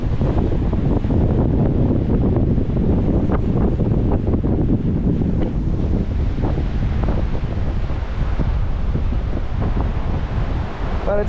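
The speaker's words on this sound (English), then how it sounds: "So we've stopped on this bridge in this gorge. And it is blowing a gale, as you can probably pick up." Strong gale-force wind roars and buffets the microphone on a bridge in a mountain gorge in the Himalaya, a loud continuous rushing with heavy low rumble and no let-up.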